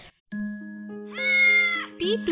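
A cartoon cat meows repeatedly in a children's animated story, the strained, drawn-out cries loud and close with no voices over them.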